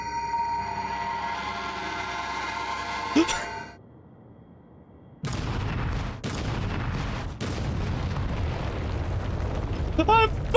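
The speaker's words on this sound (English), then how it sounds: "An impact grenade, isn't it?" An impact grenade explodes in a video game: a sharp blast hits around 5 seconds and a broad roar follows, with further bursts after it. Droning tonal game audio plays before the blast.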